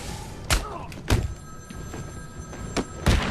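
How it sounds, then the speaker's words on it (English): An in-game telephone rings in Batman: Arkham City in a museum setting, sounding as several separate loud ring bursts at uneven intervals, mixed with dull thuds and a faint steady tone, with no voices. "do you not hear the phone ringing?"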